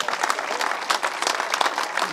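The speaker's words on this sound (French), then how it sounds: "Voilà d'abord les applaudissements du public de l'Auvergne." Outdoor crowd applauding at a podium ceremony of a cycling race stage in the Auvergne, a dense, steady patter of clapping lasting a couple of seconds with no one speaking over it.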